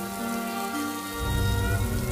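Pouring rain falls steadily on a surface, a dense hiss that grows heavier and louder about halfway through, heard alone with no voices.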